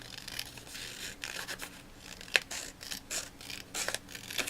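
Paper is cut away from a vintage wallet notebook, with several short, close snips and crisp tearing rasps in uneven bursts, quiet overall with one sharper snip near the middle.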